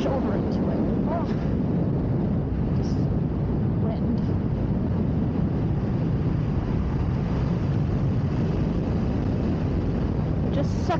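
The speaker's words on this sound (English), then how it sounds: "Oh, this wind." Strong wind buffeting outdoors on a trail, a loud continuous roar of gusts battering the microphone throughout.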